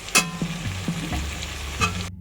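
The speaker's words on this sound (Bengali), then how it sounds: "এই পেঁয়াজ কুচানোর মধ্যেই এই যে আমি একটা টমেটো এই দেখো চার টুকরো করে রেখেছি এইভাবে দিয়ে ভেজে নেব" Chopped onion and quartered tomato fry loudly in a pan, a strong close sizzle broken by a few stirring scrapes and clinks before cutting off abruptly.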